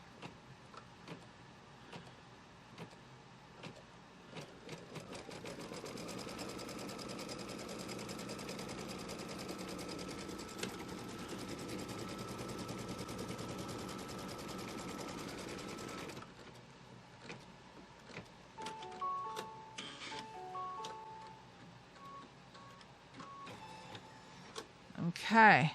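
An embroidery sewing machine stitches a seam on a quilt block, a fast, even mechanical whir running for about ten seconds, followed by clicks and beeps as it stops, with someone talking nearby.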